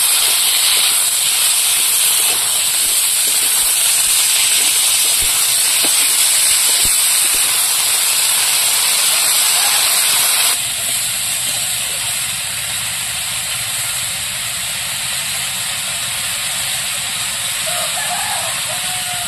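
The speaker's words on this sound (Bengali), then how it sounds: "এবার বরবটি আর আলুটা দিয়ে দেবো।" Long beans and potatoes frying with onions in a hot pan give a steady, loud sizzling hiss that holds throughout and drops slightly in level partway through.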